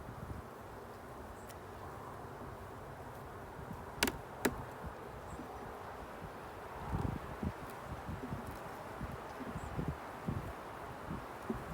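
Honey bees humming faintly and steadily around an opened hive during an inspection, a low droning buzz with soft rustling and a few sharp clicks and knocks, outdoors.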